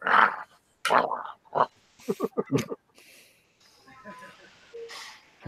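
A man imitates a dog barking with short, gruff woof sounds, several in a row and close up. His speaking voice comes before and around them.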